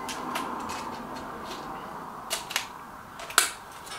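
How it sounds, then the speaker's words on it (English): Reximex Pretensis .22 air rifle firing JSB Jumbo Express pellets, a few sharp, short cracks spaced irregularly over a steady background hiss, fairly quiet and without speech. "10 shots with the JSB Jumbo Express."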